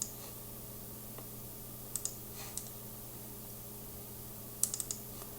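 Sparse computer mouse clicks and keyboard keystrokes at a desk during a file export, a few isolated taps and then a quick cluster of clicks near the end over a quiet room hum.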